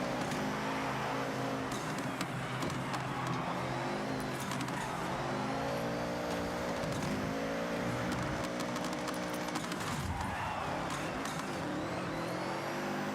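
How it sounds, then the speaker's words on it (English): Car engine in Forza Horizon 6 with a constant rattling buzz like a shaken spray paint can, a steady revving drone running the whole time, close and fairly quiet, with no talking. "I'm not a big fan of the sound of this engine, I'm not gonna lie. The constant, like, rattling noise is very annoying."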